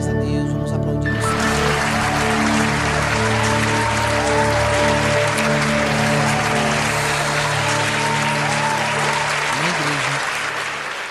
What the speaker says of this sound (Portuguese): Glórias a Deus, vamos aplaudir o Senhor.